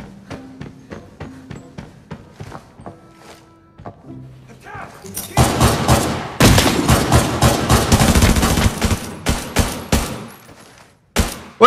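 Gunfire at bots in Arena Breakout, in the TV Station map: quiet clicks and thunks first, then a loud close volley of rapid shots lasting several seconds, with brief gaps and a final crack.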